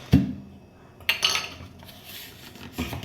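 Ingredients clatter into a mixer jar, with a sharp knock at the start, a burst of clinking near the middle and another thud toward the end, all close and fairly quiet.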